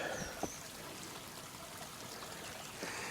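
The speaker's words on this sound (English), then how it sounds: "Actually has running water right below us. And it's actually flowing behind me." Creek water flows and trickles steadily below a trail bridge on South Carolina's Palmetto Trail, a soft continuous rush with a few small splashes.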